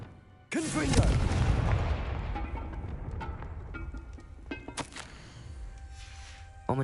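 A Confringo fire-blast spell in Hogwarts Legacy bursts with a loud, close boom, then rumbling, crackling debris and scattered pops trail off, with a second sharp burst near the end.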